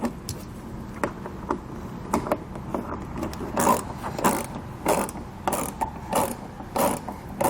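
Phillips head screws come out of a 2014 Honda CR-V wheel well with a quick run of ratcheting clicks and small mechanical ticks, close up and continuous.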